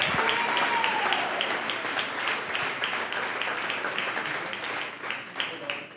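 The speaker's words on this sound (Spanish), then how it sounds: "Denle un aplauso" A church congregation applauds together, loud and close, a dense steady clapping that thins slightly toward the end, with faint voices mixed in.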